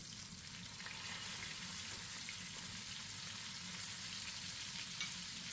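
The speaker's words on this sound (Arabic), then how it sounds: "ونحاول كل شوية ناخد من الزبدة ونحطها على الستيك من فوق" A steak fries in butter in a pan while being basted, giving a steady, moderate sizzle with faint crackles throughout and no speech.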